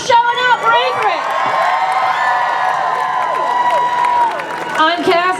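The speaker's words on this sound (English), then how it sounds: "Give yourselves a round of applause for showing up for Anchorage." A crowd at an Anchorage rally against HB178 cheers, whoops and applauds loudly and steadily for about five seconds, with shouts rising above the clapping.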